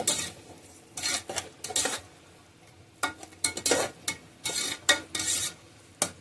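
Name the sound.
yogurt being mixed into chicken for biryani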